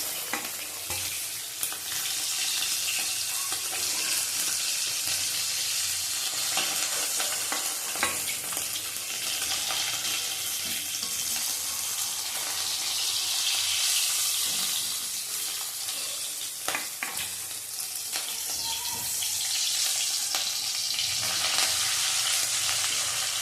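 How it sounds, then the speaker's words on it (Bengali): Small hilsa fish fry lightly in oil in a pan, giving a continuous close sizzle with occasional scrapes and clicks of stirring throughout, with no talking. "আমি তো হালকা ভেজে নেবো"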